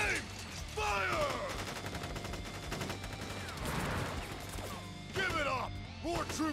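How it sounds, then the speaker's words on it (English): Gunfire volley from troops in the Crisis Core: Final Fantasy VII Reunion video game, dense crackling shots and crashes over steady game music, with sweeping chirps recurring, loud and continuous for the whole stretch. "Ready, aim, fire!"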